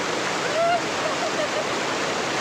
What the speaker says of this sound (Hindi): और आप भी देखिए वाटरफॉल कोटन चचरा का इस तरह से है।